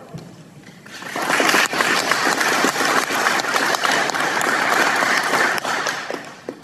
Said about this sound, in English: Ladies and gentlemen, please hold your applause